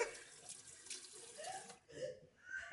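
Cold tap water runs from a faucet in a Madrid home, a faint, uneven splashing stream that briefly dips and then returns.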